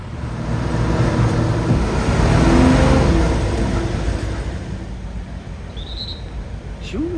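A bus engine drones low and steady while riding aboard a bus in Thailand, a broad rumbling hum that swells slightly midway and then eases, with no voices over it.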